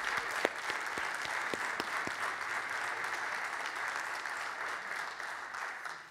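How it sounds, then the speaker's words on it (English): Church congregation applauding an orchestra and singers after a Sunday Christmas cantata, steady dense clapping from a large crowd with a few sharper nearby claps, continuous and moderately loud throughout. "let's give another round of applause."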